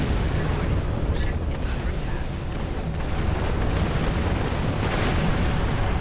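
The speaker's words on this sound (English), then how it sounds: "The explosion attacked my ship." Explosion striking a spaceship in a space combat video game, a dense, continuous rumbling roar of blasts filling the whole stretch, with a voice faintly under it.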